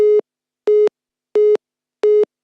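A telephone busy signal sounds for an unanswered call: four loud, even beeps of a steady tone with short silences between them, alone.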